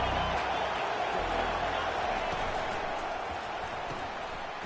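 Steady, dense roar of a stadium crowd at a college football game between Kentucky and UCLA, a continuous wash of noise heard from a distance beneath a commentator's voice.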